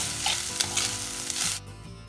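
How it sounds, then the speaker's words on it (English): Chopped onion, carrot and green and purple cabbage hit a hot pan and sizzle loudly up close, with stirring scrapes, before the hiss drops away sharply near the end. "Add all the vegetables together."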